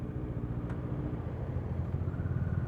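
Road traffic heard while riding on a ride through Baguio and Mountain Province: a continuous low engine rumble with the drone of nearby vehicles, steady and fairly loud with no talk.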